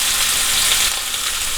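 A cut of beef steak sizzles steadily in hot oil in a pan, a loud, close, continuous hiss of frying with no talking.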